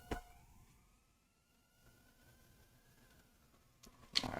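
A siren from a film scene aboard a spacecraft station, a steady wailing tone that slowly rises and holds for several seconds, with a brief loud burst of noise near the end.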